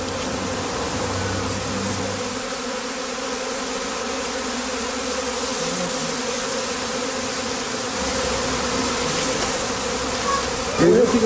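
Honeybees buzzing around a straw bee skep, a dense, continuous hum of many insects close by with some individual bees droning past, a faint voice briefly beneath.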